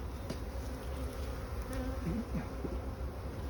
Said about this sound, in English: They are quite gentle bees.